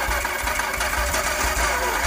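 A Daimler 250 V8 engine runs steadily under light throttle, a loud, even mechanical hum with a busy rattling texture and no clear rise in revs.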